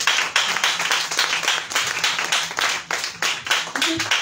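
A church congregation claps for Jesus in a steady, rhythmic beat of many hands, loud and continuous throughout, with a faint voice near the end.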